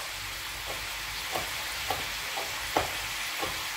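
Food fries in a pan during home cooking, a steady moderate sizzle with several soft clicks and scrapes of stirring spread across the stretch.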